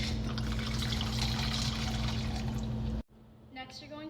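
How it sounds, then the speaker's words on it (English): Pumpkin sorbetta, a liqueur made from real fruit and sugar, is poured for a pumpkin spice martini: a steady, close liquid stream for about three seconds, then an abrupt stop. "you're going to add 2 ounces of our pumpkin sorbetta, which is our version of a liqueur"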